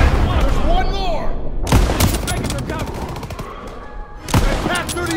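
Constant machine-gun fire and gunshots in Call of Duty: WWII, including a Pak 38 anti-tank gun crew firing at a tank, loud and close with rapid bursts and sharp reports, while voices shout over the battle.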